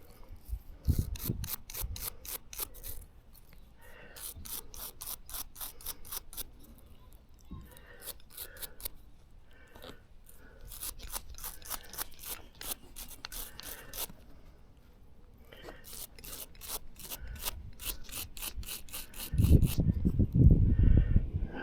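A toothbrush scrubs dirt off a small copper penny, thought to be a memorial cent, in quick, close, rhythmic rasping bursts with short pauses between strokes and a heavier handling thump near the end.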